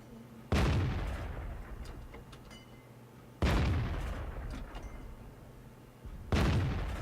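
An E-25 tank gun firing in World of Tanks, with three loud, deep booms spaced about three seconds apart, each trailing off in a long rumbling decay.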